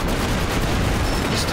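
In Company of Heroes, an artillery barrage rumbles as a dense, continuous wash of distant blasts and battle noise with no distinct gaps.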